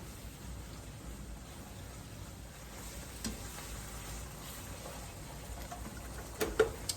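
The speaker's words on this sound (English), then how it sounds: "we're just going to mix this in until our meat is completely browned" Ground meat browning in a pan for baked beans, a soft steady sizzle with occasional light stirring scrapes and a couple of clinks near the end, quiet and without talk.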